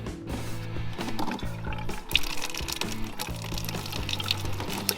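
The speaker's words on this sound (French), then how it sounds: "L'eau tombe du jerrycan vers la bassine grâce à l'attraction terrestre." Water pours from a jerrycan into a basin at a small sink in a Peugeot Expert van conversion, a continuous close trickling splash, fairly quiet.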